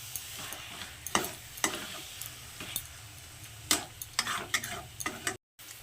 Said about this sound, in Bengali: চিকেনটার সঙ্গে এখন মশলাগুলো খুব ভালো করে মিশিয়ে নেব।